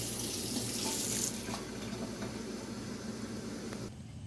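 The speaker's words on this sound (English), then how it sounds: "what happens when water hits the tree?" Water splashing steadily onto a tree outdoors, a continuous close pouring and running sound that fades out at the end.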